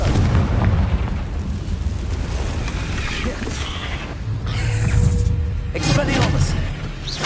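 Confringo blasting spells erupt in a Harry Potter video game as dense, booming explosions, loud and continuous, layered with a burst around the midpoint and rumbling debris throughout.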